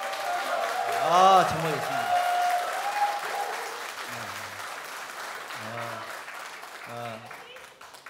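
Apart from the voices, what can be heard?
audience applause at debate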